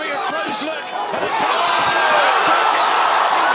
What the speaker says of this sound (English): The crowd thundered with one name